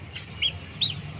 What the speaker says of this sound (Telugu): మన కోడి పిల్లలు